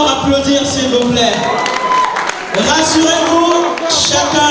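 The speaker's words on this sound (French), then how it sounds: "Est-ce qu'on peut encore applaudir, s'il vous plaît?" Applause and cheering from guests at a wedding party, loud and continuous, with music and voices mixed in throughout.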